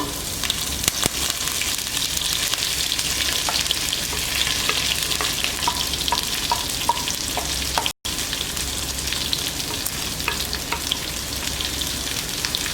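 Onion, green chili and curry leaves sautéing in a pan with ginger, garlic and pepper for a lamb liver roast, a steady close sizzle with scattered stirring scrapes throughout and a brief dropout near the end.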